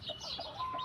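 Hens on a game farm cluck faintly and briefly in a short burst of soft bird calls.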